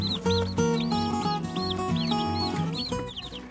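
Newborn chicks kept warm under a heat lamp give rapid, high, repeated peeps that run steadily through the clip over a tonal musical background.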